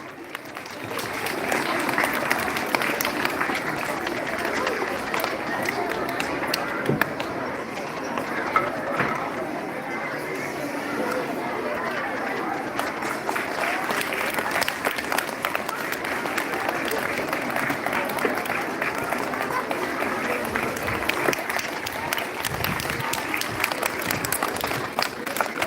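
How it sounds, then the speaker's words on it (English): A big round of applause at a school event honoring a guest with a shawl fills the hall, steady and dense from start to finish, with voices mixed in beneath the clapping. "Give a big round of applause."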